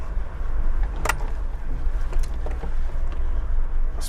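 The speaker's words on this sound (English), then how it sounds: "So I'm just crawling up in first gear." A 4WD crawls in first gear up a rocky track, giving a steady low engine rumble with a few faint knocks and clunks as it creeps over the rocks.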